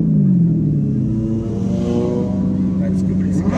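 A Corvette's engine revs at a beach, a loud, close, steady low roar that climbs slightly in pitch across the few seconds.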